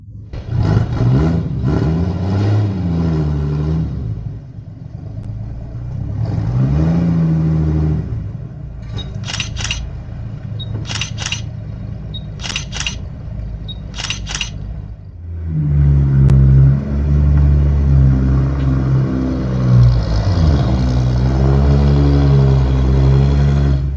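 A 1977 Argentine-built Ford Ranchero fitted out as a tiny house is driven, its engine revving up and easing off in several surges with quieter idling stretches and light clicks between.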